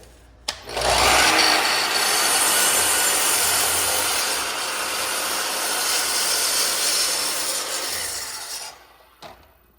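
A hand saw cuts all the way through a wooden sabre stool top in one continuous pass. The rasping is close and loud, starting with a sharp bite and ending with a soft knock as the cut finishes, with no speech.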